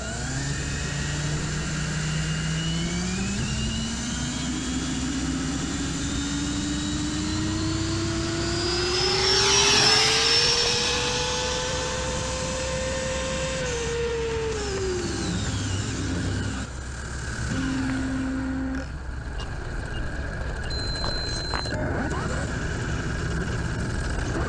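A 4S-powered RC car with a Castle 1721 2400kV motor makes a speed pass on a road, its electric whine rising in pitch and peaking loudly mid-clip before fading, with a steady background hum and brief voices.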